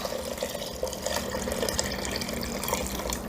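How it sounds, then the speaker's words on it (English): Brine mixture being poured gently into a Ziploc bag while making homemade Canadian peameal back bacon, a steady close liquid splashing and trickling that runs without pause and with no talk. "we're going to gently pour the brine mixture into here"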